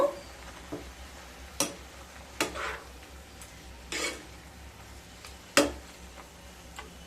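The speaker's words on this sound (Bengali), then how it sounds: "পরিমাণ মতো লবণ দিয়ে দিলাম। এবার একটু নেড়ে নেব।" Salted cauliflower leaves are stirred in a pan. A few separate, quiet scraping strokes land at irregular intervals over a near-silent background.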